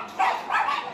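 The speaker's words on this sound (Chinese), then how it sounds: "这边有一条狗狗啊" Dog at a market, two quick nearby barks in succession, fairly loud and alone.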